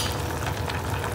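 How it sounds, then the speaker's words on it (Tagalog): A pot of sponge gourd (patola) soup boils steadily, a dense, constant bubbling and hiss that stays loud and even throughout, with no voices. "Ayan, kumukulo na guys."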